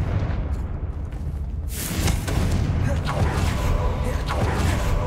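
A Confringo blasting spell explodes in Hogwarts Legacy, a sudden loud boom bursting in midway and rolling into crackling debris over a rumbling low game backdrop.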